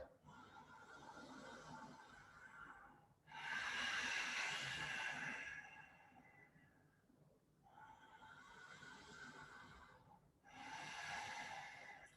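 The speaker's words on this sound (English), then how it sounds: "That slight constriction in the throat that just gives that sound, the ujjayi breath" Slow ujjayi yoga breathing with a constricted throat, long breathy inhales and exhales alternating in a steady rhythm, close and fairly quiet with no talking.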